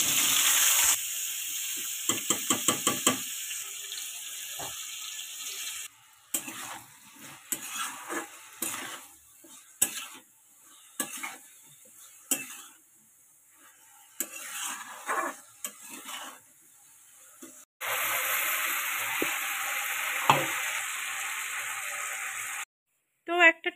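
Black cumin seeds crackle and sizzle in hot oil in a pan while being stirred, with a steady frying hiss broken by scraping and clinking of the spoon against the pan, close and fairly loud.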